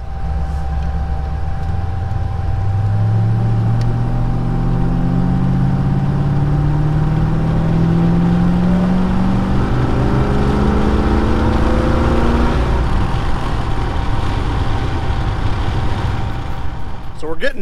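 A 1936 Dodge street rod fitted with a refreshed Chrysler 340 V8 runs steadily and loud throughout, its low engine note rising and sweeping in pitch midway as it revs, with some voice faintly mixed in.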